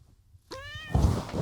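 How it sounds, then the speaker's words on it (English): A cat gives a single clear meow with strong harmonics, close and fairly loud, followed by a low thump and some rustling. "You got a creaky chair and a meowy cat."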